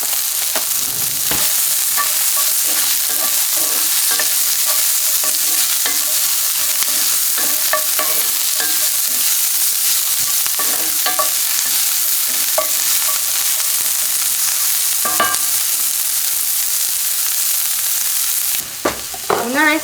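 Onion fries in a hot pan for ground-beef tacos, giving a loud, steady, close-up sizzle broken by frequent scraping and tapping from a stirring utensil.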